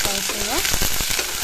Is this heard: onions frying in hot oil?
yes